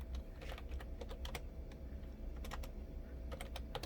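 Computer keyboard keys are tapped in quick clusters of light clicks with brief gaps between them, faint and close against a low steady room hum.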